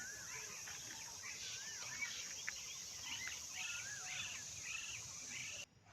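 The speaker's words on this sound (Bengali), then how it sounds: "নানান রকম পাখির ডাক শোনা যায় এখানে।" Various birds call and chirp in a garden under a cloudy sky, repeated short whistled notes and trills scattered over steady background hiss, moderately distant, with a constant high insect-like drone throughout.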